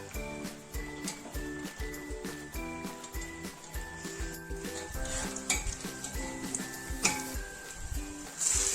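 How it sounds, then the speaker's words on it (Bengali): Cloves and cinnamon fry gently in a pan, with a soft sizzle under metallic clinks and scraping of a utensil against the pot. "লবঙ্গ দারচিনি সব কিছু দিয়ে আমি একটু ভেজে নিচ্ছি হালকা করে"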